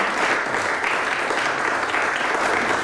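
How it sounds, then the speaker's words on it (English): Award ceremony audience applauds steadily at a lifetime achievement presentation honouring a Top of the Pops photographer, a dense, even wash of clapping that fills the whole stretch with no break. "big round of applause for Harry for Top of the Pops."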